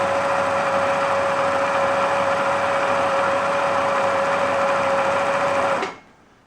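A Pfaff 1222 sewing machine runs at a good, steady speed with a continuous close whirring hum and a fixed motor whine, then stops abruptly, leaving a brief fading spin-down.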